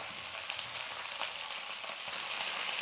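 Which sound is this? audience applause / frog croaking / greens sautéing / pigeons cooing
greens sautéing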